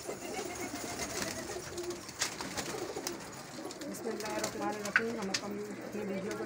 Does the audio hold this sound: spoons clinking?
no